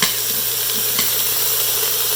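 Mixed vegetables of beans, carrot and potatoes sautéing in an Instant Pot, giving a steady loud sizzle and hiss with faint scrapes of stirring underneath.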